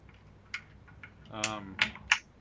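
A mechanical keyboard with rubber O-rings fitted under its keycaps clacks through a few quiet, scattered keystrokes, with a brief voice sounding among them.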